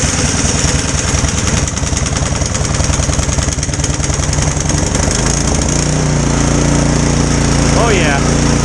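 A snow blower engine, run after its pull start broke, roars loud and close with a rough, pulsing idle that settles into a steadier, smoother drone, and a voice speaks briefly near the end.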